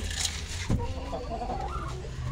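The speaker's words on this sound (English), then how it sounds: "I get ready to feed all my chickens and turkeys" Chickens and turkeys gathered in a coop at morning feeding time give soft clucks and a brief squawk over a steady low background hum, with no talking.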